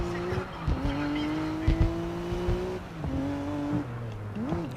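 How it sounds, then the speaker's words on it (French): Engine of a race car in GRID Legends, a steady high drone that rises and drops through gear shifts, with tire squeal and skids, loud and close, with someone talking faintly underneath. "On sent bien qu'on a amélioré la voiture, elle va beaucoup plus vite."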